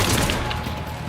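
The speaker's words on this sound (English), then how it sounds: "you get access to the Argus, which is a burst fire weapon" Burst-fire Argus assault rifle firing in Mass Effect 3, a quick rattling volley of loud shots at the start that fades into a short echoing tail.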